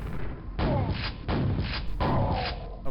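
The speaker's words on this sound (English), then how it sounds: "So they were jumping down from there. That's the thuds I was hearing." An enforcer in Quake II lands with heavy, dull thuds as it drops down, three or four muffled impacts spaced about half a second apart at moderate volume.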